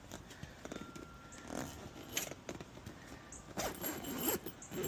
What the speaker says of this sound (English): And then zip up.